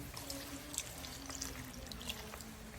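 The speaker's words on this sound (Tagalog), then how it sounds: "Lagyan muna natin ng kalating basong tubig." Half a glass of water poured into a cooking pot with salted yellowfin fish for a coconut-milk stew, heard as a soft, steady trickle with light splashing, faint and close throughout.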